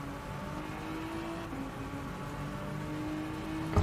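Genesis X Gr3 race car engine in a racing video game, a steady droning engine note with a gear change toward the end and no talk over it.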